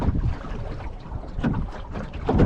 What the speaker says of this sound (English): This is the wind we've been waiting for all day